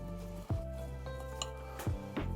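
Potatoes and salt being mixed in a baking tray, a few scraping, clinking knocks of utensil against the tray over a low steady hum.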